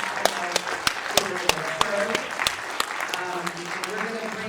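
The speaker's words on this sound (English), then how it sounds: "Please give our mentors another round of applause." Audience applause at a film premiere Q&A, steady clapping with a few sharp individual claps standing out and a speaking voice over it.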